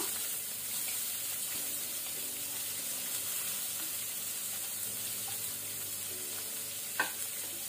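Chopped onion frying in oil in a pan over a medium flame, a steady close hiss of sizzling throughout with a faint clink near the end.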